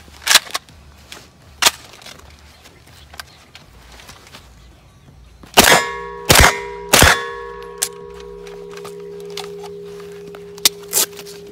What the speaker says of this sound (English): A few shots, change your magazine and see how it goes.